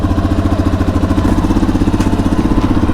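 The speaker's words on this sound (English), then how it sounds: "Supermoto DRZ 400" Suzuki DR-Z400 SM supermoto bike thumping close by, the single-cylinder engine giving a fast, rhythmic pulsing putter at low revs throughout, with no talking.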